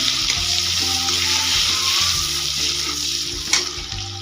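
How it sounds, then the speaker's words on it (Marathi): Chopped onion frying in oil and butter in a pan, a loud continuous sizzle with a low hum in the background and one brief sharper clatter near the end. "मी तेलामध्ये टाकले बटर त्याच्यामध्ये थोडासा कांदा घालून घेणार आहे"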